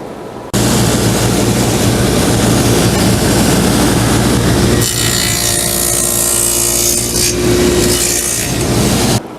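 A table saw with a sled cuts dados across a wooden board, its loud steady whine and rough cutting noise running continuously after a sharp start, with the pitch shifting partway through.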